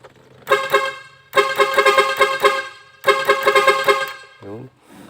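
A short honk, then two loud bursts of a musical car horn playing rapid tune-like note sequences, followed by a brief voice.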